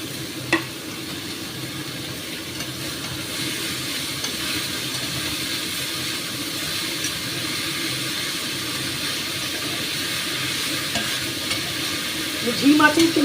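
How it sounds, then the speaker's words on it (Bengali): Fenugreek greens frying with tomato in a pan over low heat, giving a steady soft sizzle with light stirring scrapes throughout and a slightly louder clatter at the very end. "এবার আমি শাকটা দিয়ে দিচ্ছি এর মধ্যে"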